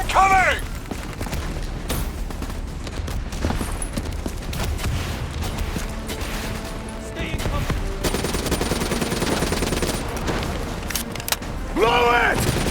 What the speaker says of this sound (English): Brace for impact. Javelin missiles inbound. Incoming!